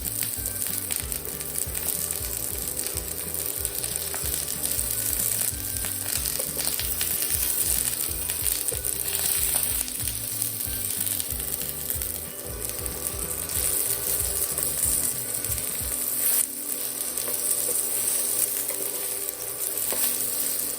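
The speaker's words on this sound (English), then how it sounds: "Haluin lang natin occasionally yung ating eggplants para hindi sila masunog." Eggplant pieces sizzle loudly in a hot pan, a dense steady frying hiss close by, punctuated by scraping stirs of a utensil against the pan.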